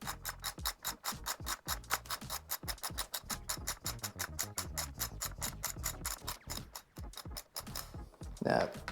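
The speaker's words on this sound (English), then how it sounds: "Use a 10mm spanner to restrain the nut at the bottom, and then a 12mm socket to loosen the bolt on top." A 12mm socket ratchet loosens the handguard bolt on a KLX 150 BF motorcycle, a rapid close clicking of the pawl in steady back-and-forth bursts, ending with a brief scrape of handling.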